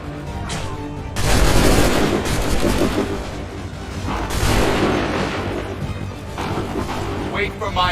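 Musket volleys in Assassin's Creed III, a loud, dense battlefield barrage of repeated gunfire bursts with booming low end, rising and falling over several seconds while voices shout commands beneath.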